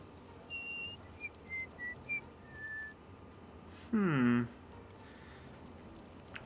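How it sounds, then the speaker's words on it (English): A Fallout 3 character whistles a short tune, a string of clear separate notes, followed by a brief, louder sliding sound, all faint against a quiet game background. "What is that tune she's whistling?"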